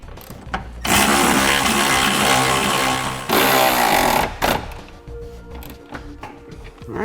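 A power tool whirs in loud bursts while fasteners on a Curt trailer hitch receiver are tightened on a 2014 Kia Optima, with a steady drone broken by short pauses and clicks.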